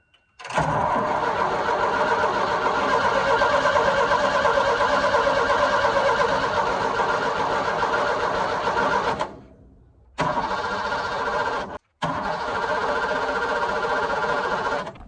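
A small engine cranks over with a gas can rigged straight to its fuel line and a weak battery pack: loud, steady starter churning for about nine seconds, then two shorter bursts after brief pauses, never catching.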